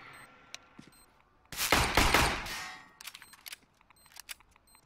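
Counter-Strike gunfire in a competitive matchmaking match: a dense, loud burst of rapid shots lasting about a second and a half, with scattered metallic clinks and single pops before and after.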